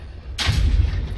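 Explosive kegs detonate in a Dota 2 match: one sudden, loud blast bursts in after a quiet moment and rolls into a deep, rumbling boom that keeps going.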